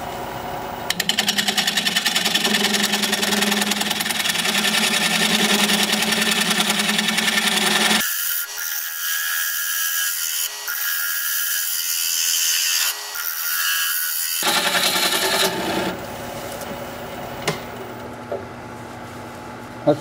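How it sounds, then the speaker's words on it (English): A carbide tool cuts the thick sides of an elephant foot bowl spinning on a wood lathe, producing a loud, steady scraping hiss that drops out for several seconds midway before resuming. "I'm trying to cut the sides down thinner."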